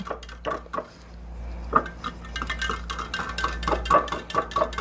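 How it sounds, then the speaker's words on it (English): Pickling lime water for preserving eggs is stirred in a container, giving a series of close clinks, taps and scrapes against the sides in an uneven rhythm with light swishing between them. "I'm gonna stir this one up a little bit"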